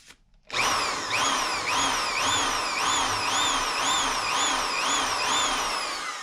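A power drill bores into a VW Super Beetle ball joint to add a grease fitting. It starts abruptly and runs loud and close for several seconds, its pitch rising and falling in a steady repeating cycle.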